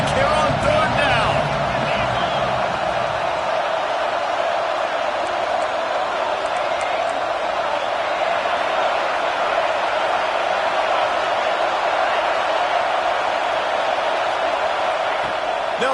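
Steady, dense roar of an Auburn football stadium crowd during a third-down play against Michigan State, loud and sustained throughout with no break, a few sharper cheers rising near the start.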